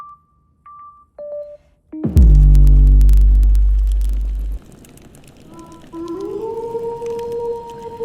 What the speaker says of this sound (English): So there's the wolf.